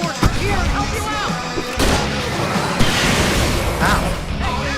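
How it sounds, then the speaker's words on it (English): Fireworks burst and crash in loud booms during a chaotic fight in the game Alan Wake, set against dense noise, with shouting voices mixed in. "I can set off more of the fireworks from here and help you out!"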